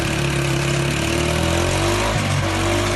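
A motorbike engine drives a makeshift sugarcane crusher, a continuous mid-pitched droning hum with no breaks, close and fairly loud.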